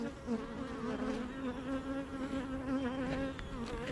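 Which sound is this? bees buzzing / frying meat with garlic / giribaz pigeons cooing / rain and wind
bees buzzing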